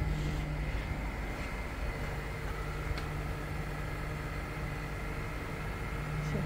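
A 2024 Honda Accord Hybrid Touring idles after a remote start, giving a steady low engine drone with a faint tonal hum, heard close and continuous for several seconds.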